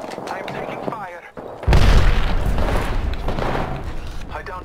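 Incoming gunfire in a shooter video game: a dense, loud burst of rapid shots and booms erupts after a brief quiet and keeps rattling for several seconds, with game voice chatter heard before it.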